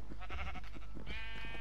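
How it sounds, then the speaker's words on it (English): Sheep in Minecraft let out a series of wavering, nasal bleats, close and clear, one call running into the next over a little under two seconds. "I'm gonna make sheep have babies."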